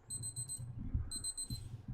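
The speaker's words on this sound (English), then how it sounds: "we got another alarm going" An alarm goes off in the truck-driving video game SnowRunner, a rapid, high, beeping clock-like ring in two bursts over low game rumble.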